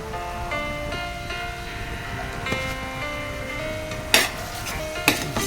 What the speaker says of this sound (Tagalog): Gisa-gisa muna natin guys ang giniling at saka hotdog.